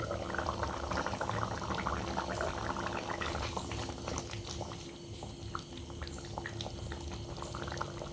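Katla fish head and taro curry with mustard paste bubbles briskly in an uncovered pot, a close, continuous simmering burble without pause.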